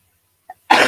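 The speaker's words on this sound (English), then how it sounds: "you hear me coughing?" A single short cough from someone recovering from COVID, close and loud, preceded by a faint brief sound in an otherwise quiet room.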